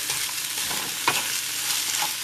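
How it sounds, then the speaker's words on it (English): Salmon stir fry with a tablespoon of sesame oil being stirred in a hot pan, giving a loud, dense sizzle with a couple of sharp utensil knocks against the pan. "I'm just going to give that a good stir around"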